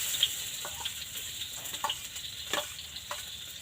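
Shredded cabbage stir-fried in a pan gives a soft, steady sizzle broken by scattered scraping and clicking strokes, fairly quiet and close, with no talking.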